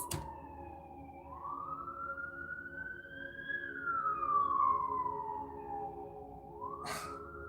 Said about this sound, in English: You hear these sirens?